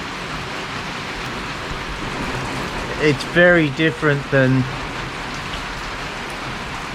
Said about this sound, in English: I do like a good downpour, no matter how shitty it is for business.